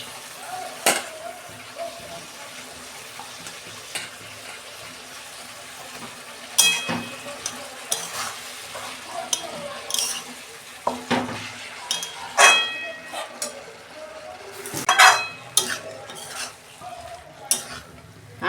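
Mixed vegetables and cabbage stir-frying in spices in a pot over a low gas flame, with repeated scraping and clinking of a spoon against the pan over a soft sizzle.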